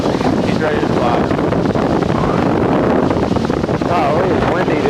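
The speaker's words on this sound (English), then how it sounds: "Oh, it's windy today." Strong gusty crosswind buffets the microphone at an airfield during flight training, a loud continuous roar with rushing surges throughout, and voices faintly audible beneath it.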